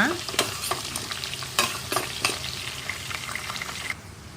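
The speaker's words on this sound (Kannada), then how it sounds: "ಕರ್ಬೇವಿನ ಸೊಪ್ಪು ಎರಡು ಕಡ್ಡಿ ಒಂದು ಸ್ಪೂನಷ್ಟು ಉದ್ದಿನ ಬೇಳೆ ಒಂದು ಸ್ಪೂನಷ್ಟು ಕಡಲೆಬೇಳೆ ಇದು ಬ್ರೌನ್ ಕಲರ್ ಬರುವವರೆಗೂ ಫ್ರೈ ಮಾಡ್ಕೊಳ್ಳೋಣ" Curry leaves, urad dal and chana dal browning in oil for irlikai chitranna, close crackling sizzle with a few sharp spoon scrapes against the pan, then quieter frying.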